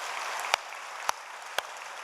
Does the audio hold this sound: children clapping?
yes